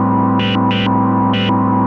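Moog Matriarch glitch pad holds a dense, distorted sustained drone while three short bright bursts of filter-envelope modulation flare up and fall away, loud and unaccompanied by any voice.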